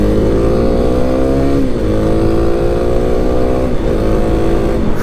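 A Kawasaki KLX 300 dual-sport motorcycle engine drones steadily up close, its pitch dropping and climbing again twice as the rider shifts gears while riding.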